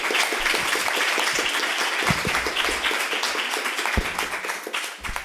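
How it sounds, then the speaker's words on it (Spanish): Audience clapping for a speaker at a panel discussion, a dense steady patter of many hands lasting several seconds, close and even, with a few sharper individual claps standing out. "Palmas para él."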